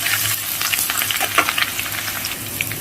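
Garlic paste sizzles steadily in a pan over low flame for mutton kosha, with close scraping stir strokes over a continuous frying hiss and no talking.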